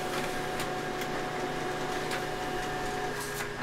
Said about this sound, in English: It should come on this printer here.